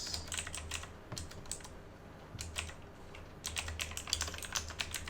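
Fingers tapping on a computer keyboard while a campaign name is entered, quick bursts of close, light key clicks separated by short pauses, with no voices.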